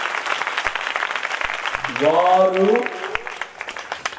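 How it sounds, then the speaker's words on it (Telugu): Loud clapping from a church congregation rises and swells over a couple of seconds while a preacher's voice speaks over and through it. "కొట్టు చప్పట్లు గట్టిగా"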